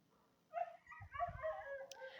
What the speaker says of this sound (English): There's a couple of dogs fighting.